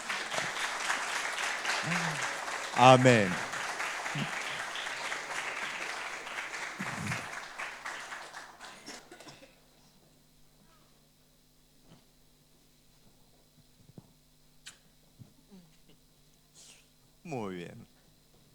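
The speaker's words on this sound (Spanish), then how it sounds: "Le damos un aplauso." A church congregation applauds for several seconds, a dense wash of clapping with a spoken voice over it, which then fades into near silence with occasional scattered voices.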